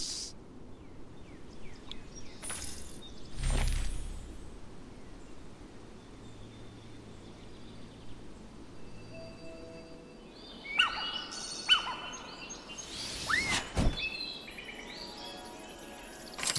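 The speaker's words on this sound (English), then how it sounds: "That stupid bird is coming!" Bird calls from a bird in a fantasy animated drama scene, a few scattered chirps and sharper bursts over a quiet background with faint insect-like hiss, moderately near and not under talk.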